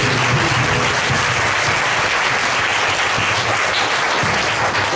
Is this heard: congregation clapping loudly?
yes